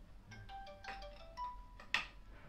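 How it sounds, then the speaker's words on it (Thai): An incoming call on a phone rings out as a short melodic ringtone of bright electronic tones. A few notes step in sequence at moderate volume, and a sharp click follows near the end. "แต่โดนมีโทรศัพท์มาแล้วนะ"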